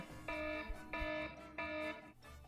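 A kitchen-style countdown timer goes off at the end of three minutes, beeping in three sustained electronic bursts with short gaps, moderately loud, alone against quiet room tone.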